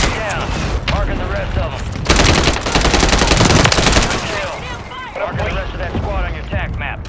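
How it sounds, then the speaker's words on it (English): Friendly mortar strike explosions in a battle-royale shooter, a long dense barrage of loud bursts and crackling blasts swelling in the middle, with a voice talking over the noise before and after. "Friendly mortar strike inbound."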